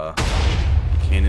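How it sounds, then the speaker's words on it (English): A loud, sudden burst of video game cannon fire in an Eclipse vs Synthesis House of Cores qualifier match, a sharp boom followed by a rumbling low tail lasting about a second. "Cannon fire."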